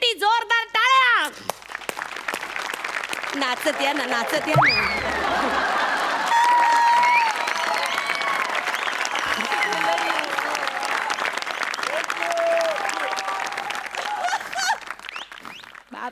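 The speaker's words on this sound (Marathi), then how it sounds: "जोरदार टाळ्या" An audience claps loudly and steadily for a performer as he comes on stage at a Marathi comedy show. The applause is dense and sustained for most of the stretch, with some talk and laughter mixed in.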